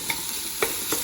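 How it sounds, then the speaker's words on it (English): Sausage and onions sizzle in a hot pan while a spoon stirs and breaks up the meat, giving a few sharp scraping clacks over a steady frying hiss. "So you're going to want to break up the sausage like this, get it all mixed up with the onions"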